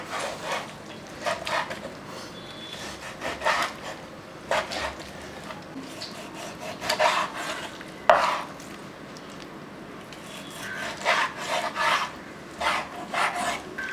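A knife slices raw beef on a board in a series of short, irregular rasping cuts, close and fairly quiet, with brief pauses between strokes and no talking.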